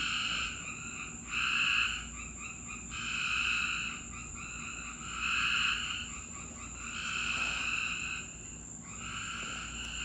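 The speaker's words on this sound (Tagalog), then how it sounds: "Mga palaka ba yan?" A chorus of frogs croaking in repeated rhythmic bursts that rise and fall every second or two, with a faint insect drone underneath.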